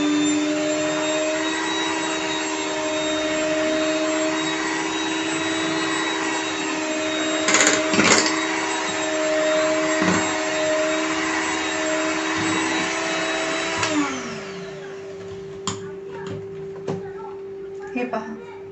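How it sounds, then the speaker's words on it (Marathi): An electric mixer blends a mango ice cream mixture of mango essence and yellow-orange colour with a steady, loud droning whir. A few knocks sound partway through, and the motor winds down near the end, leaving scattered clatter. Speech is faint. "आता आपण हे 1 मिनिटासाठी मिक्स करून घेऊया।"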